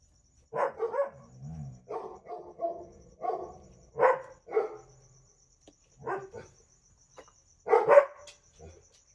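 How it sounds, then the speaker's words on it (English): Several short clusters of dog barking, with brief pauses between them and a few whines, fairly close by. "I have no idea what they're barking about."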